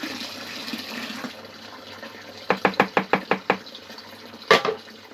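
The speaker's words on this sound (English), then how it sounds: "Give your cans a good flush." A short burst of running water splashes and sloshes inside a beer-brewing can as it is flushed, followed by a quick series of sharp knocks and a final clatter.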